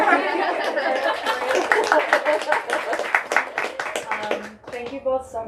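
An audience at a bookstore author event gives a steady round of applause that runs the whole time. Laughter and cheerful chatter mix in, and the clapping tapers slightly at the end.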